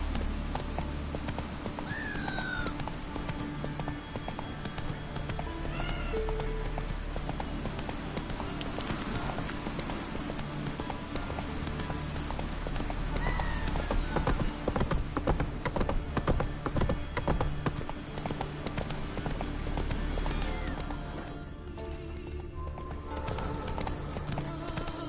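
A horse gallops continuously in The Witcher 3 video game, its rapid hoofbeats loud and close throughout, with a short neigh early on and game music and ambience underneath.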